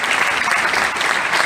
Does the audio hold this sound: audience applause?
yes